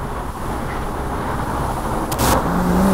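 Road traffic rolls past on a hill road in a continuous low rumble, with a brief sharper noise near the end and no talk.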